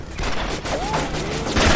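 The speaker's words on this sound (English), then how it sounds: "Receiving enemy fire!" Enemy gunfire in the PC shooter Raven Squad, a dense continuous rattle of shots lasting under two seconds, loud and close with no talk over it.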